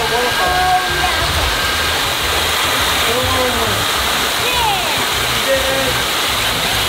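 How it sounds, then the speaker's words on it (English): Rushing waterfall roars steadily around a toy monster truck driving beneath the falling water, a dense constant wash of splashing with a voice briefly calling out over it. "let's try to go under the waterfall."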